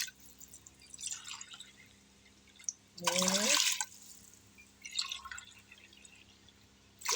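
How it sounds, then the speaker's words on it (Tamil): Water measured out in a tumbler and poured onto rice for sambar rice, with one clear splashing pour in the middle and faint dripping around it, heard close, while a voice counts aloud. "தண்ணி அளந்து ஊற்றிப்போங்க."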